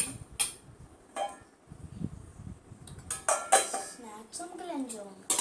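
A plastic snack container for school is handled, giving a few sharp clicks and clatters spread across the stretch, fairly close and moderately loud, with quiet rustling between.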